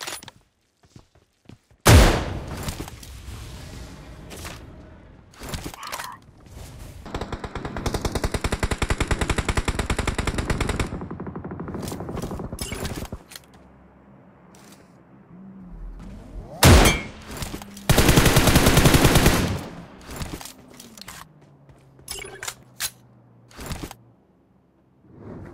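DSR sniper rifle firing in a video game, sharp loud gunshot cracks spaced apart alongside longer bursts of rapid automatic fire and mechanical clanks, close and punchy with no voices.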